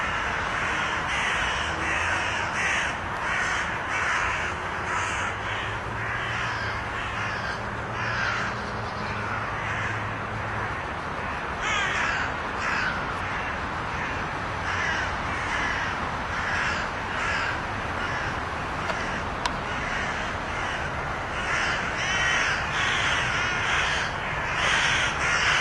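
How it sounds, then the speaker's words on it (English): Crows caw repeatedly in a winter wood, harsh calls from several birds overlapping and carrying on throughout at fairly close range. "Flocks of birds frequent the wood, as you can hear."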